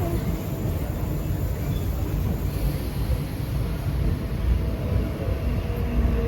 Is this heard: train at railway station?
yes